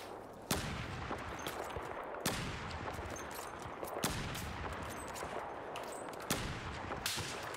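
Gunfire in the video game Battlefield 4: a continuous dense crackle of shots with a few sharper, louder reports at intervals, a busy battlefield wash with no clear talking.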